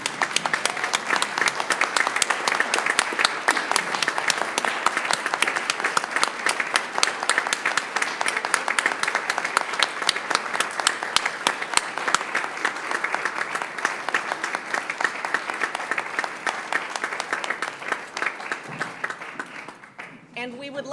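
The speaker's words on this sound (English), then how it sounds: "Please stand and applaud Ms." City council meeting audience in Roswell standing and applauding an honoree, a long sustained round of clapping that stays steady, then tapers and stops near the end.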